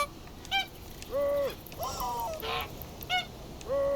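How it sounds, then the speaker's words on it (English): A goofy honk horn from the game TOEM blares in repeated bursts, each honk a jumble of different goose-like, squeaky and rubber-chicken-like tones, loud and close with short gaps between them. "I like that the honk horn is just like a collection of sounds."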